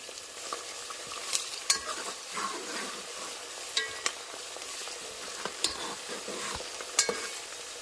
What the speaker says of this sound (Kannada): ಇದನ್ನೆಲ್ಲ ಹಾಕಿ ಸ್ವಲ್ಪ ಚೆನ್ನಾಗಿ ಒಗ್ಗರಣೆ ಮಾಡಬೇಕಾಗತ್ತೆ